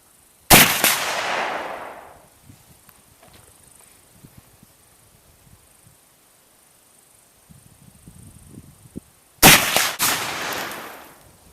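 Two sharp, loud rifle shots from a Remington Rolling Block Model 1902 single-shot firing black powder rounds, about nine seconds apart, each ringing out and decaying, with faint handling noises in the quiet between.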